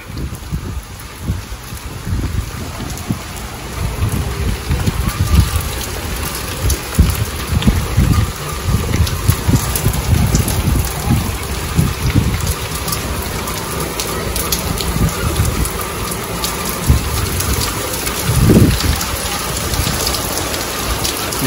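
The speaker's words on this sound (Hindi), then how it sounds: "आप बाहर पीछे देख सकते हैं कि क्या तेज वाली बारिश आ रखी है यहाँ पे" Heavy rain pours outdoors in a steady, dense hiss of drops striking surfaces, loud and continuous throughout, with occasional louder splashes and no voices.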